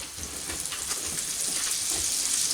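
Butter sizzling in a hot pan, a steady crackling hiss that grows slightly louder over a couple of seconds, close and alone.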